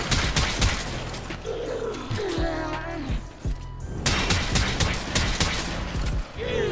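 The Snipetron Vandal sniper rifle in Warframe fires in rapid, sharp repeated cracks, spammed shot after shot amid other game effects and brief chirping tones.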